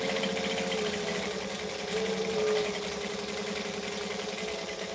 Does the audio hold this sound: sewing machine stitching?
yes